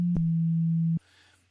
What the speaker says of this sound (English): the sine wave maybe sounds a little bit more like a voice